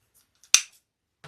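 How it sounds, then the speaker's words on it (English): Scissors cut a long piece of ribbon for a summer lantern wreath on a moss frame, making one sharp, close snip in near silence, followed by a faint rustle. "cut one really, really long piece."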